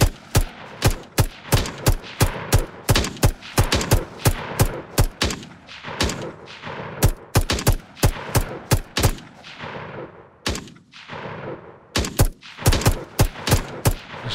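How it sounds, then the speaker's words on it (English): Rapid bursts of gunfire from an enemy soldier in an Unreal Engine 5 military first-person shooter, loud and close, with sharp repeated shots in clusters and brief pauses throughout. "she's shooting me again"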